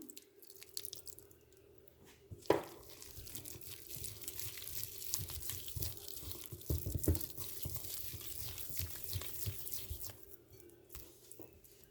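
Water is poured into spiced paneer 65 batter and worked in by hand, giving soft dripping, wet squishing and sloshing sounds that continue steadily at low volume, with no one talking.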